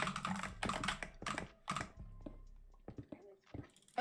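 Computer keyboard typing in quick clattering bursts of keystrokes, close and crisp, with short pauses between runs and scattered single taps toward the end.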